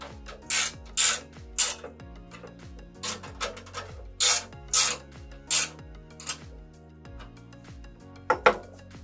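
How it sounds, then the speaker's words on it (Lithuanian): Metal tools clank and rasp against bolts as a 13 mm wrench tightens them on an industrial sewing machine table frame, giving a series of sharp, close metallic scrapes and clinks in an irregular rhythm with no talk. "Pasiėmam 13 dydžio raktą"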